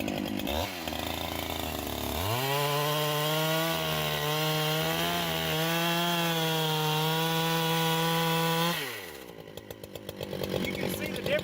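A power saw run down through hardwood at a woodworking show, producing a loud, steady, strongly pitched whine for several seconds that drops away abruptly near the end, with a rougher rasping tail.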